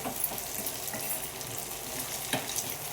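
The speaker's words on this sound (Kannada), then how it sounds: "ಲೋ ಫ್ಲೇಮಲ್ಲೇ ಇಡಿ. ಸ್ವಲ್ಪ ಶೇಂಗಾ ಕೆಂಪಗಾಗಬೇಕು" Peanuts frying in a pan over a low flame, a continuous gentle sizzle with scattered light scrapes and rattles, close and moderately quiet, no talking.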